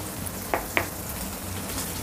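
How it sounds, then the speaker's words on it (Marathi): Garlic cloves sauté in oil over low gas with cumin, asafoetida and curry leaves, making a soft, steady sizzle close by, broken by two quick spatula clicks. No voice is heard. "थोडंसं लसूण परतून घेऊया।"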